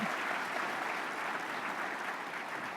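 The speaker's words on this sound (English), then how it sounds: "Let's give them a round of applause." A conference audience at a roundtable session applauds steadily, a dense, even wash of clapping lasting a few seconds with no talk over it.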